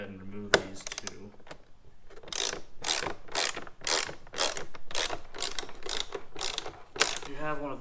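A ratchet clicking as it backs out T25 Torx screws on a generation 4 Ski-Doo snowmobile, steady rapid bursts of close metallic ratcheting, with a voice briefly heard at the start and end.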